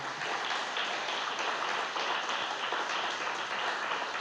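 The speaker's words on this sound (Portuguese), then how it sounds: "Se quiser, você pode aplaudir ao Senhor." A church congregation at a Sunday evening service applauds the Lord, a steady, even roar of many hands clapping that fills the room for several seconds with no voices over it.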